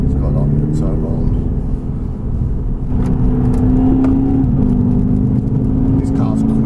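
VW Scirocco 2.0 TDI 175 BHP turbo diesel pulling hard uphill on a slightly wet road, a steady loud engine drone that rises in pitch as it accelerates, with someone talking over it throughout.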